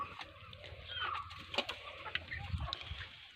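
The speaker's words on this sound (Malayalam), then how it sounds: "പിന്നെ ഇവിടെ മൂന്ന് മുട്ടക്കോഴിയുണ്ട്" Soft clucking and scattered calls from a few laying hens in a coop, fairly quiet and close, with light rustling and shuffling in between.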